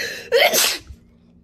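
One sharp sneeze bursts out, brief and loud, followed by quiet.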